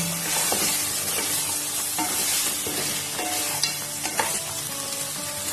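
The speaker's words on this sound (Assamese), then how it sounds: "মই এতিয়া গেছটো অলপ বঢ়াই পেলাই মই অকণমান সময় মাংসখিনি ভাজি ল'ম।" Local chicken meat frying in a pan over a raised gas flame, a steady, close, dense sizzle with a few louder pops and no talk.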